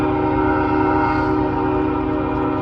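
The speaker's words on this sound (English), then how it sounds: "from far away you can hear they blow their horn a lot of times at this crossing" A loud, sustained train horn blares continuously at a crossing, a steady chord-like blast with a rumbling low end and no voices.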